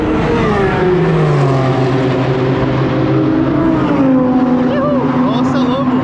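Race cars run at the Algarve International Circuit, their engines droning and rising in pitch as they pass at a distance, forming a continuous loud motor roar throughout.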